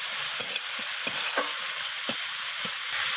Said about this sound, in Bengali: পেঁয়াজ টমেটো দুটোকেই ভেজে নিচ্ছি যতক্ষণে নরম হয়ে আসছে